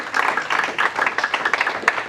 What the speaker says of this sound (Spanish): Den un fuerte aplauso al Rey de Reyes y Señor de Señores